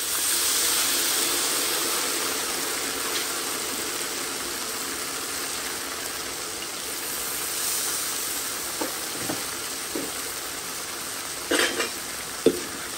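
Chicken and snow peas simmering in a pan after water is added, a steady broadband hiss and sizzle at close range, with a few faint clicks and taps near the end.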